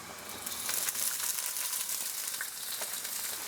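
Cabbage is stir-fried in oil in a hot wok for home-style yakisoba, a steady bright sizzle with crackling and rustling, close and fairly quiet.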